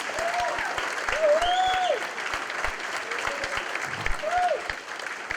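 Applause from the crowd at a community college workforce and nursing building ribbon cutting, steady clapping with some whistles and cheers mixed in, sustained throughout at moderate distance.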